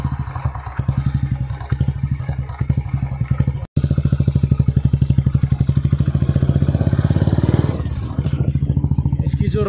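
A Royal Enfield Classic 350 motorcycle runs with a steady low thumping single-cylinder engine note throughout, loud and close, briefly cutting out near the middle before the rhythmic putter resumes and eases off toward the end.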